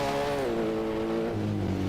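A Mitsubishi Evo race car with a 2-litre turbo engine accelerates through turns on a hill-climb course, the engine droning loudly and dropping in pitch as it lifts, then pulling again.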